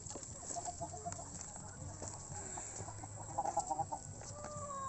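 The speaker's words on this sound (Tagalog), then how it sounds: "These are the chickens, the ducks." Chickens cluck on a small farm where ducks are also kept, the calls coming in short repeated bursts, with a quick clustered run near the end, over a low steady background rumble.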